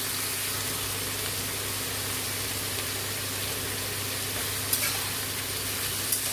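Tomatoes sautéing with a pinch of salt in a pan give a steady, close sizzling hiss throughout, with a couple of brief stirring clicks near the end.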